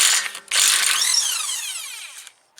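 A Lidl Parkside PDSSE 450B2 mains-powered electric impact wrench whirs up and spins a wheel nut off, one loud continuous burst of about two seconds with a rising, falling whine, then stopping abruptly.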